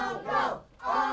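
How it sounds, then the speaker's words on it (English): A wrestling crowd at an indoor independent show chants loudly for a submission in two rhythmic bursts of massed voices, separated by a brief lull. "Crowd is firmly behind Uncle Hector, firmly behind the Great Lakes champion, calling for the submission of Christian Clayton"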